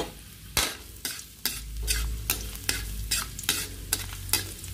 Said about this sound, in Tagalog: Yung kawali ko, ayan, may mantika na yan. Ang unang ilagay ko, luya. Yan, igisa ko yung luya.